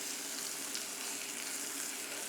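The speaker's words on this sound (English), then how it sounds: "So let's get our pork into the pan. Listen to that sizzle." Steady, close sizzling of pork frying in a hot pan, a continuous crackling hiss with no pauses and no voices.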